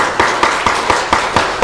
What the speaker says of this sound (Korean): 우리 이 시간에 힘찬 박수로 먼저 하나님 앞에 영광을 돌렸으면 좋겠습니다